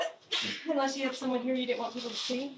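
A woman's sharp sneeze bursts out near the start, brief and fairly close, while someone talks over it.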